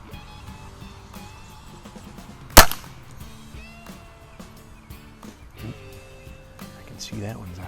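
A single sharp, close crack from a backyard air rifle, a Feinwerkbau 124 or Webley Scott Hawk, standing alone amid quiet talk and light outdoor background.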